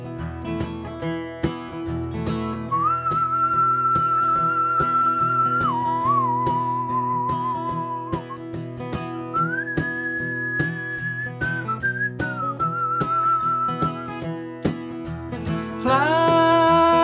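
A person whistles a Christmas carol melody in clear, sustained notes over soft instrumental accompaniment. There are short pauses between phrases, and the accompaniment swells near the end.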